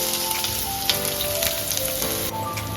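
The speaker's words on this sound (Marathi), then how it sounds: "आता ह्याच्यात आपण बारीक चिरलेला कांदा टाकूयात" Finely chopped onion frying in a hot pan, a steady, close sizzle and crackle that fills the whole clip with no talking.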